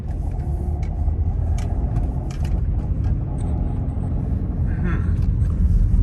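A car drives through storm-damaged streets after Hurricane Ida in the Baton Rouge area, giving a steady low engine and road rumble with some rattling, while a person talks over it.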